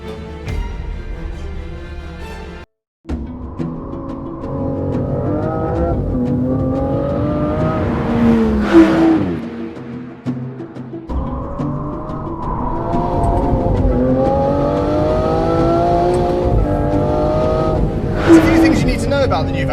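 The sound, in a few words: Aston Martin Vanquish twin-turbo V12 accelerating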